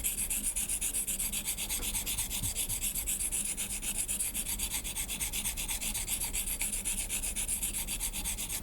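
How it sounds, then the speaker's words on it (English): A chisel is sharpened by hand in a steady, rapid back-and-forth rubbing and scraping on a stone, close and even, with no voices. "to have Taran-san here one day and ask him to show us how he is trained by Asuka Sensei to sharpen his chisels this way"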